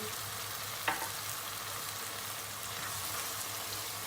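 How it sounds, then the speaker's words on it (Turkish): A spaghetti sauce sizzles steadily in a pan on the stove while it is stirred, with one brief utensil knock near the start over an even hiss and no talking. "Karıştırmaya devam ediyoruz."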